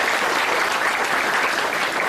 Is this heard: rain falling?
no